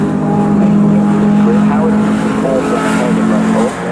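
Jaguar XJS touring race cars driving at Donington, a steady, loud engine drone that holds an even pitch throughout and fades slightly at the very end.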